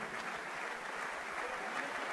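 At a boxing gala, the audience applauds a boxer with a steady, distant patter of clapping that continues throughout, fairly faint and without clear speech.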